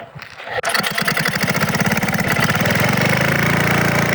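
A very old Craftsman 5-horsepower, 23-inch snowblower engine, on full choke after two primes, fires up after a brief pull and settles into a loud, rapid, steady chugging run close by.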